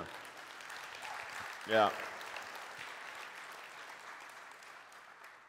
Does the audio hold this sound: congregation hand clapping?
yes